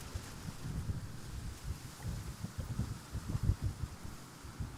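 Strong wind at Schiphol Amsterdam airport buffets the microphone in low, gusty rumbles that rise and fall continuously, with no other sounds standing out.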